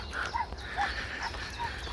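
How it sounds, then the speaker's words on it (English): Young puppies out on a walk in a country park give faint, brief yips and whimpers against steady outdoor background noise. "It's always good to see young puppies out enjoying themselves and being trained properly"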